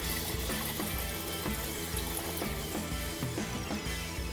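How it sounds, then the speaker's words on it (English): Water poured into a cooking pot for rice, a steady close splashing and trickling stream that runs on without pause, with no talking. "so we're gonna add 3 cups of water to this."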